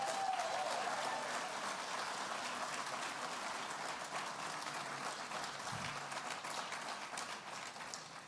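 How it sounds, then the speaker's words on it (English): Soft, steady applause from a concert audience at an awards night, heard from a distance, with a faint murmur underneath and no clear peaks. "can we get a round of applause for them"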